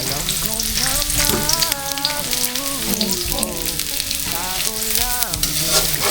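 Garlic butter prawns sizzle and crackle loudly and steadily in a hot pan, close up, under a sung melody playing throughout.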